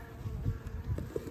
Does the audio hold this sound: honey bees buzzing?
yes